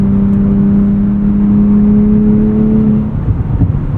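Engine of a 2024 Nissan Z Nismo held in gear on a back road, a loud steady interior drone with a sustained tone that fades out near the end, heard from inside the car.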